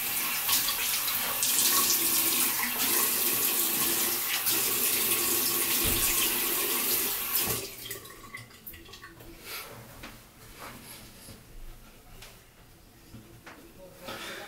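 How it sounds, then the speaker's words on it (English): Tap water runs loudly into a sink as shaving lather is rinsed off, a steady rushing stream for about half the time, then quieter splashing and dripping. "we're just gonna rinse out"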